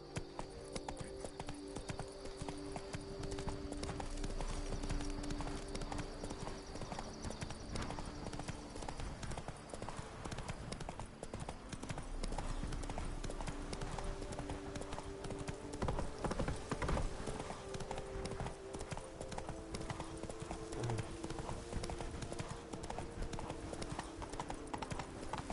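Roach the horse galloping in The Witcher 3, with steady, rhythmic hoofbeats drumming continuously over a low in-game ambient hum.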